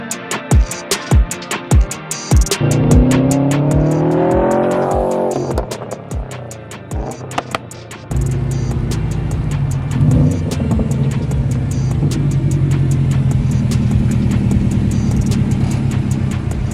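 A Subaru WRX STI exhaust rumbles loudly at close range, rising in revs through the first few seconds, then settling into a steady deep drone, with scattered sharp clicks and pops throughout.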